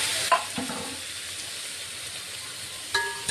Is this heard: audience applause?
no